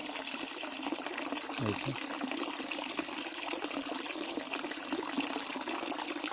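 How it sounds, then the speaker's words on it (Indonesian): Water running steadily from a short tap fed by a hydraulic ram pump drawing from a well, a continuous broadband rush throughout with a brief spoken word partway through. "ini saya buka di keran yang pendek"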